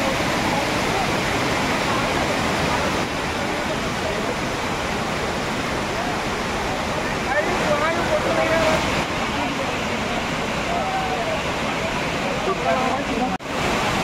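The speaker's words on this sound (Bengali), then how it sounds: "ওয়াটারফল" Steady roar of Tirathgarh waterfall at Jagdalpur, Chhattisgarh, a dense, unbroken rush of falling water filling the whole scene at even loudness, with faint voices of visitors blending into the background.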